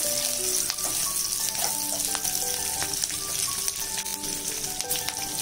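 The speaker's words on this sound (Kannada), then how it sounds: "1 ನಿಮಿಷದವರೆಗೂ ಚೆನ್ನಾಗಿ ಫ್ರೈ ಮಾಡ್ಕೋಬೇಕು." Cut green chillies frying in hot oil in a pan for a Mumtaz chicken gravy, a steady close sizzle with fine crackling pops throughout.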